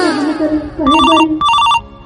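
A mobile phone ringtone plays in two short electronic bursts with a warbling melody, loud and close, after a stretch of other tonal sound.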